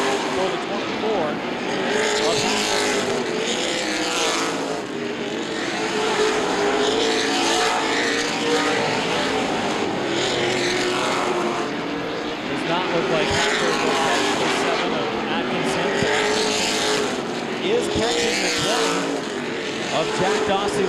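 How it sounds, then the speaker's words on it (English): Late model sportsman stock cars roar around the Anderson Speedway oval in the closing laps of a CRA race, engines swelling and fading in repeated passes while a track announcer talks continuously over them. "Chris Hacker enters turn 3, enters turn number 4."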